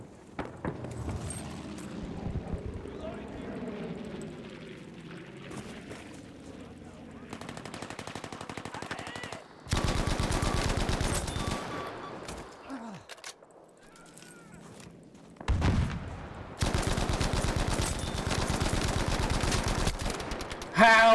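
A Bren light machine gun fires in the Battlefield V multiplayer game, sustained loud automatic bursts separated by quieter stretches of ambient battle noise, with players talking at times.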